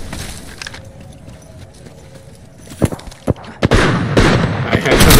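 Gunfire in a battle royale video game: scattered sharp shots crack over a busy background, growing denser and louder toward the end.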